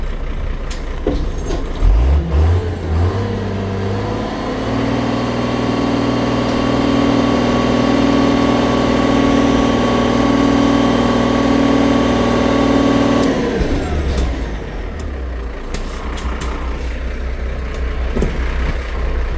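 Truck engine spools up and idles steadily with the PTO engaged, a loud, sustained drone with rising harmonic tones that drops away after about thirteen seconds, followed by brief clanks and a hiss.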